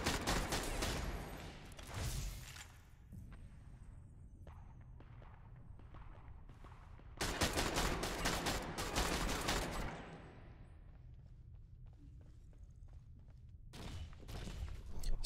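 Automatic rifle fire in the online shooter Ghost Recon Online, with dense bursts of rapid rounds near the start and a long sustained burst in the middle, separated by quieter stretches of scattered shots and thuds.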